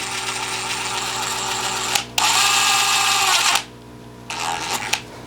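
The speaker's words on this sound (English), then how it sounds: "I'm going to drill a pilot hole just because the drill bit's a little large" A power drill whines at high speed in bursts, drilling a pilot hole in the plastic of an aquarium sponge filter, stopping and restarting, with small clicks between runs and a faint background hum.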